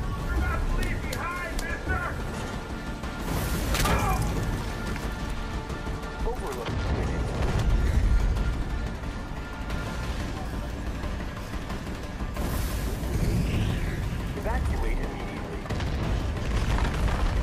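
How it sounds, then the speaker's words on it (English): Booming explosions in Far Cry 5 gameplay erupt repeatedly through a dense, loud action mix, with a person talking throughout. "Especially when there's explosions happening everywhere."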